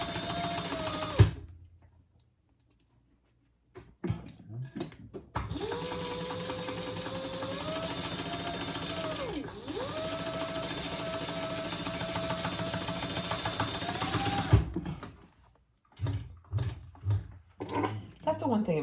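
A sewing machine bastes a shoulder bag along the seam allowance, a steady mechanical whir running in long sustained bursts with a brief pause in the middle, stopping and starting, with clicks and handling sounds between runs.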